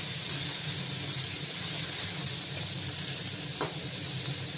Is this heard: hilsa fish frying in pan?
yes